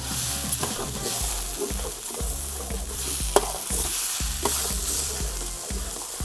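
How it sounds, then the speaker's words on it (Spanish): Squid ink sizzles and fries in a pan for black rice while being stirred continuously, with steady crackling broken by repeated scraping strokes of the spoon. "La tinta siempre hay que sofreírla bien y cocinarla para que no sea perjudicial."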